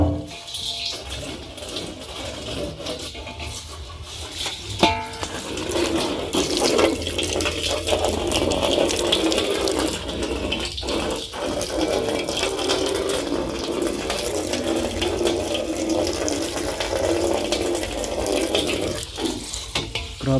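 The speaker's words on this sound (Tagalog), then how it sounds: "Lagay tayo ng tubig dito." Water runs and splashes steadily into a container for cattle to drink on a farm for a long stretch, with a few knocks and clatters along the way.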